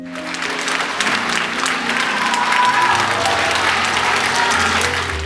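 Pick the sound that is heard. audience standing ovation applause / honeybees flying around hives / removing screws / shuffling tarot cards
audience standing ovation applause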